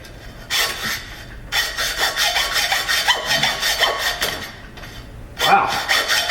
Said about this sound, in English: Sometimes I just go with the old-fashioned hacksaw. I just put a brand new blade in there.